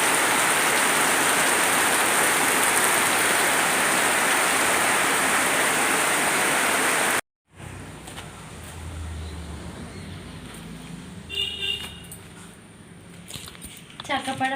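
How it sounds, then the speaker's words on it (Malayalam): Heavy monsoon rain pours in a loud, dense, steady hiss for several seconds, then gives way abruptly to a quieter stretch of softer rainfall with a person talking. "നല്ല ശരിക്കും മഴ പെയ്യുന്നു ഇവിടെ കേട്ടോ അടിപൊളി മഴ കേട്ടോ"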